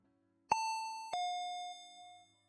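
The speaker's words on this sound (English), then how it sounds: "the doorbell rang" Two-tone doorbell chime rings indoors, a clear ding followed by a lower dong that rings out and fades, with no talking.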